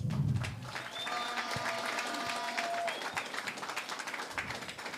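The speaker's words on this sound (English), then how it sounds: "let us please give a round of applause to our dear friend, Jason Knowles." An audience at a regatta closing ceremony on Long Island gives a warm, steady round of applause, many hands clapping continuously for several seconds before it starts thinning out.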